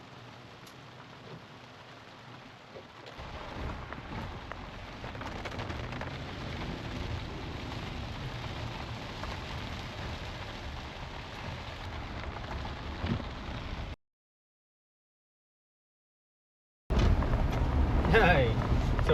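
Steady rain falls in Bankhead National Forest during a rainy-day Jeep trip, a broad hiss that swells after the first few seconds and holds, then cuts out briefly before returning loud near the end.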